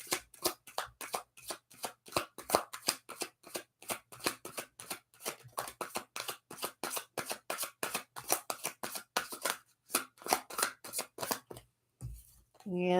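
Oracle cards are shuffled for a reading in a long run of rapid, rhythmic riffling bursts, close and crisp, with a brief pause and some handling noise toward the end.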